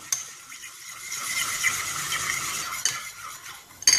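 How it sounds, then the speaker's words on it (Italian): Three egg yolks are whisked for carbonara in a small bowl, a steady, bright scraping swirl of utensil against the bowl, close and continuous, ending in a sharper clink. "in una ciotolina abbiamo messo i tre tuorli, andiamo a mescolare"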